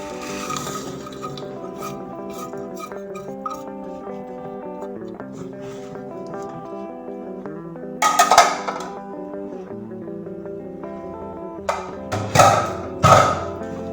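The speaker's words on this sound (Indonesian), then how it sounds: "Aduk terus sampai gulanya larut." A spoon scrapes and rasps against a pot of dissolving palm sugar (gula merah) cooked with pandan leaves, salt and vanilla, a few short scraping bursts near the end over steady background music.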